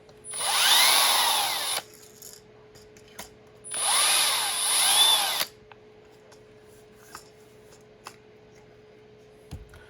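An electric screwdriver drives screws into a 3D-printed thumbhole stock in two loud, whining bursts of about a second and a half each, followed by quieter small clicks and taps.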